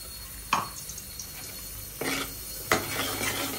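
Fish in masala is stirred in a frying pan over high flame: a steady sizzle runs throughout, broken by a few sharp scraping strokes of the spatula against the pan, with no voices.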